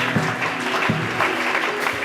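Church congregation applauding during a Sunday worship service, a steady crowd clapping lasting about two seconds with a few louder claps standing out.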